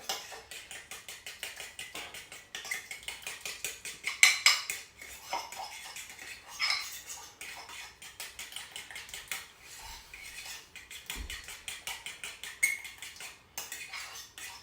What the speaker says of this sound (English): So I just mix that up quite good. No lump.